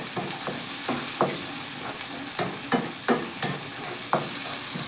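Finely chopped onion sautés lightly in a pan with a steady hiss, broken by repeated scraping strokes of a spatula in a loose rhythm, close and fairly loud.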